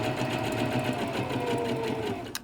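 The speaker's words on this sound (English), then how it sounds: "I'm just going to run a seam down both edges to keep the fabric from fraying." A sewing machine runs a seam along both fabric edges, a steady fast mechanical whir with rapid needle ticking, close and continuous, stopping with a short click at the end.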